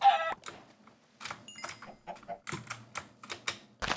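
Minecraft chickens clucking in a swamp biome, short scattered clucks and squawks among clicky keyboard-like taps, close and intermittent.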